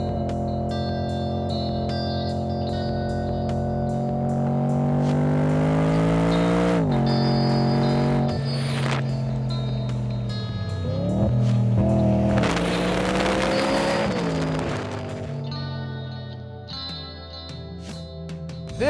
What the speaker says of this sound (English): So what do you say we drive the 620 horsepower wide body M3?